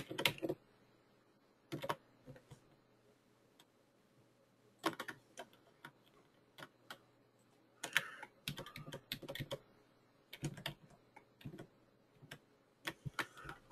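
Computer keyboard arrow keys are pressed in scattered short clicks and small clusters of taps, close and fairly quiet, with silent gaps between the presses.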